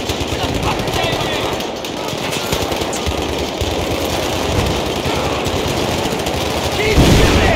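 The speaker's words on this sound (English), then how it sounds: "Keep shooting!" Continuous machine gun fire in the video game Battlefield 3, with dense rapid bursts forming a loud, unbroken rattle under the busy battle sounds.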